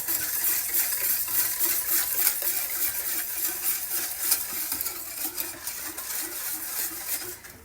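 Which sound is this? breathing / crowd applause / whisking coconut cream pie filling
whisking coconut cream pie filling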